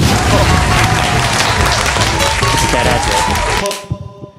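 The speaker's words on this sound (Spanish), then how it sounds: "me gustaría presentar con fuertes aplausos al señor Hoffman" Loud, dense audience applause welcoming a guest on stage fills the first few seconds before cutting off sharply, leaving a quiet tail with a few scattered sounds.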